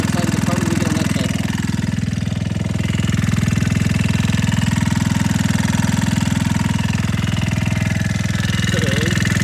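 Talon GSX150 R2 motorcycle engine idling close by after a new ignition install, a loud, fast, even knocking putter held steady throughout.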